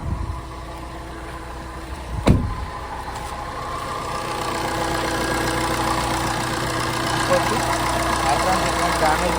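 A 2016 Maruti Suzuki Swift Dzire LDI diesel engine idling up close, a steady low rumbling hum with one sharp knock early on, holding evenly to the end.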